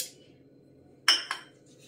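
Pistachios tipped into a steel mixer grinder jar produce two bright, short metallic clinks in quick succession, close and crisp against an otherwise quiet kitchen.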